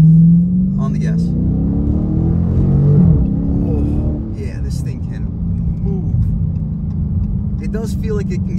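A 2022 Dodge Challenger R/T Scat Pack accelerates hard in second gear, its V8 drone rising steadily in pitch and holding loud and close from inside the cabin, with someone talking over it.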